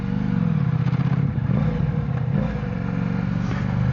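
A 2025 Ducati xDiavel motorcycle accelerates while being ridden, its engine giving a loud, close, steady low rumble with a slight rise in pitch, and wind roar underneath.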